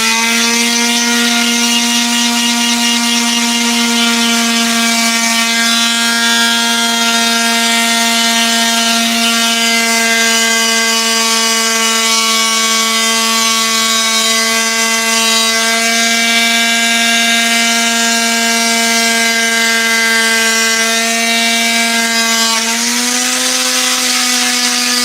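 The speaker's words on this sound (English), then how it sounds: "The sander's making some funny noises." A sander whines loudly and steadily with a strong buzzing, harmonic-rich drone that holds one pitch throughout, then rises slightly near the end, heard close up and alone with no voices.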